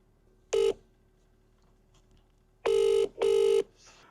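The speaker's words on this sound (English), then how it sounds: "I'm going to give the customer a call now" Three electronic dialing tones, one short beep followed after a pause by two longer ones in quick succession, clear and close in a quiet room.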